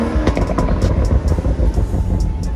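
A BMW M135i engine revs loudly up close, a dense, steady low-frequency roar with rattling texture and brief sharper bursts, held for a few seconds with no talk over it.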